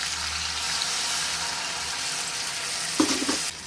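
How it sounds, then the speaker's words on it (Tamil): Tamarind water added to a fish curry on the stove, which gives a steady close frying sizzle, then a short splashing burst as liquid hits the pan, after which the sizzle drops off. "அந்த புளியை ஊற்றுறோம்."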